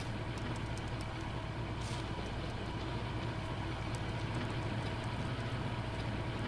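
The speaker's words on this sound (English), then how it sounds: "Sir, you mind turning off the engine for me?" A car engine idles in the video game Arma 2, a steady low rumbling drone that holds even and continuous throughout, with no voices over it.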